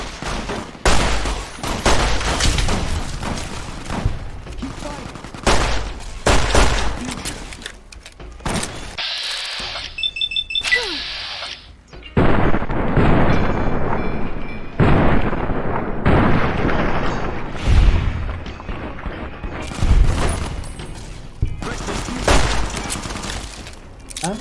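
Heavy gunfire and explosions in Fallout: New Vegas, with dense bursts of shots and booming blasts that continue almost without a break and stop only briefly for a moment of near quiet.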